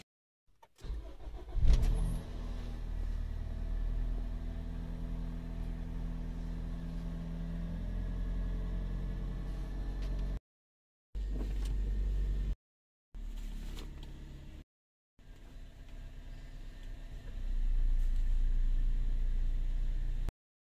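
A car engine starts and runs steadily as the vehicle is driven in, a close low rumble holding throughout with a few gaps and a rise near the end.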